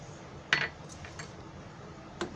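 A metal spoon stirs homemade chicken soup in a pot after salt goes in, giving a few sharp clinks against the side with quiet simmering between them.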